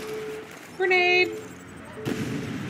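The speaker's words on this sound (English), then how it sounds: "Grenade." Grenade explosion in the video game Crackdown: a single dull blast lands a moment after a short shout, moderately loud and fading quickly into background game noise.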